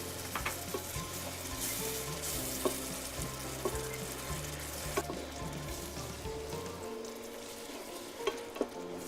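Masala with curd and cream cooks in a pan for a biryani, giving a steady close sizzle and frying hiss with occasional stirring scrapes and light clinks throughout, no voices.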